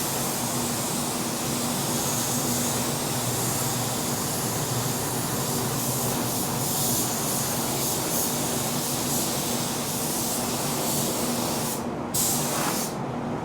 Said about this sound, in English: Make sure you're spraying your sealer wet.